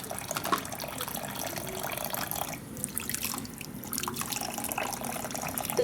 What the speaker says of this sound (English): I'm going to take each denture out and rinse the food particles